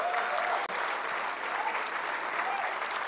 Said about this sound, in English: Let's clap for you all.